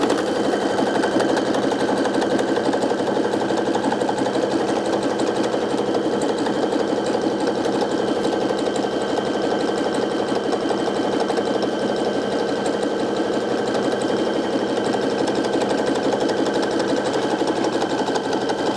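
A sewing machine runs steadily and continuously, stitching the second side of a pillow, its motor hum and rapid needle chatter loud, close and unbroken throughout.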